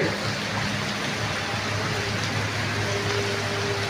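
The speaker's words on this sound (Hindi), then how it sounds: "फुल बारिश है, फुल बारिश।" Heavy storm rain in Lahore pours steadily, a dense continuous hiss of water drumming on surfaces and running off a roof, with no pauses, close and loud.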